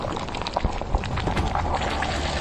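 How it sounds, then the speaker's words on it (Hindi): Oil boils in a vessel with a dense, steady bubbling and hissing sizzle that stays loud and continuous throughout, with no voices. "यह बस उबलता हुआ ही दिखाई दे रहा है।"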